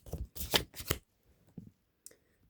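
Tarot cards being shuffled, three quick riffling bursts close by, followed by a few softer taps and one sharp flick; no talking.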